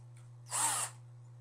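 A power screw gun drives a screw into door hardware in one brief, sharp whirring burst of under half a second, close and alone over a low background hum.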